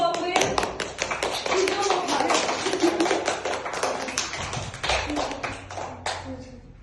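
A small group claps steadily for several seconds at a children's certificate ceremony, the quick hand taps close and lively, with voices mixed in.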